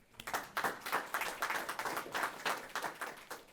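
A small audience at an investor pitch event applauds, with steady, moderately faint clapping that carries on for a few seconds with no talking over it.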